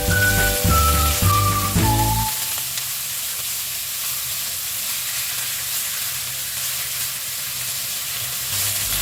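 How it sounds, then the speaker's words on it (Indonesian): Steady sizzling of steak frying in a hot pan until browned on both sides, a continuous crackling hiss after a brief burst of louder tones at the start. "kita goreng sampai kedua belah sisinya itu berwarna kecoklatan"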